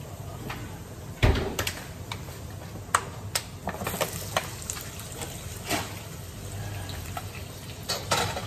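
Ground chicken and garlic frying in a pan: a steady low sizzle with scattered utensil clinks and scrapes, plus one sharp thump like a cupboard door near the start, with no talking.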